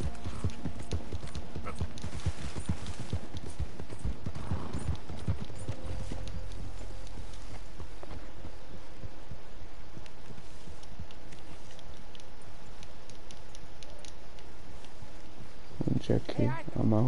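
Horse in Red Dead Redemption 2 clip-clopping steadily as it is ridden, the hoofbeats continuous under frequent talk, with a brief neigh at the very end.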